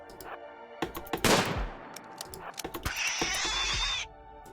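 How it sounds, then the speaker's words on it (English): Bolt-action rifle shots at a wild boar in the video game RimWorld, several sharp cracks scattered through a burst of combat sound effects, loud and close, followed by a bright sustained noise that cuts off abruptly. "Anton gingerly discharged his bolt-action rifle at the wild boar"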